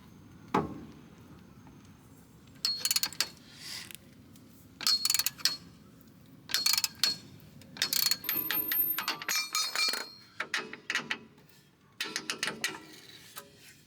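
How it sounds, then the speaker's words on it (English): Metallic clinks and clanks come in short irregular bursts as a jack raises the suspension arm and tools work the shock absorber bolts on an Audi A3 8V, with quiet gaps between bursts. "I'm using a jack here to lift up the suspension arm while I remove the bolts for the shock absorber and the front suspension hub"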